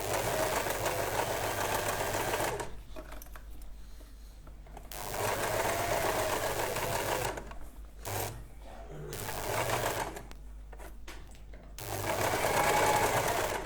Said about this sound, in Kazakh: мына жолда мен лапканың бойымен тігіп келе жатырмын